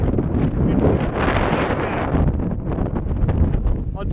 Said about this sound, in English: It's the strongest wind I've seen on the trip.